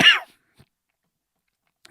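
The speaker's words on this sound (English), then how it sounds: "Sorry for coughing" A single short, harsh cough from a person, close and fairly loud, followed by near silence with a couple of faint small sounds.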